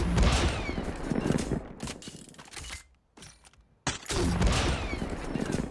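Rapid crackling bursts like a string of firecrackers from a video game elimination effect, loud and dense, broken by a brief near-silent gap before another burst of popping.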